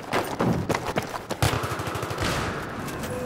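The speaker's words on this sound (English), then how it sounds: "Why do gunshots sound like they right there?" Rapid bursts of gunfire in Battlefield 3 crackle and thump in quick succession, loud and close, followed by a steadier rumbling volley.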